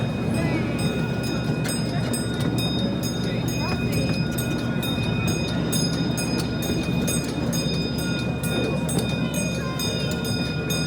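A zoo train runs steadily past, partly hidden behind a fence, with a continuous rumble and rail clatter at close range and people talking over it throughout.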